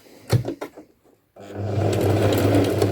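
A sewing machine stitches fabric over wire, starting with a few short knocks and taps, then going quiet briefly before a loud, steady mechanical whirr of stitching takes over up close.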